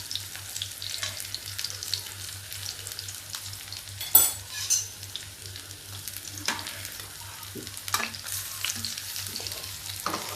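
Pakoras fry in hot oil in a pan, a quiet, steady sizzle and crackle with occasional sharper pops and stirring clicks over a faint low hum.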